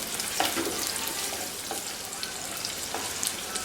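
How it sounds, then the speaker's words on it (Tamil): Onions sizzling in oil in a pan for sundakkai kara kuzhambu, a constant faint crackling hiss with a few soft stirring scrapes, heard alone without voices. "இதை கொஞ்ச நேரம் நல்லா வதக்கிட்டு கொஞ்சம் லேசாக கலர் மாறுற வரைக்கும் வதக்கணும்"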